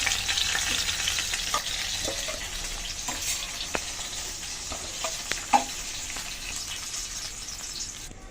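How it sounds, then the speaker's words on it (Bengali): Tilapia frying in hot oil gives a steady, close sizzle with scattered crackles and pops, and a louder spatter near the end. "মাছটা ভালো করে ভেজে নিলাম। এখন তুলে নিচ্ছি।"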